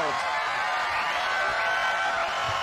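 Arena crowd in the Fight Night Round 2 boxing game erupting after a knockdown punch, a dense continuous roar of cheering held at steady volume throughout.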